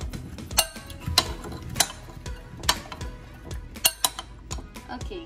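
Biryani ingredients tinted with food coloring being stirred in a metal pot, with repeated clinks and scrapes of a spoon against the pan at close range, irregular and steady throughout.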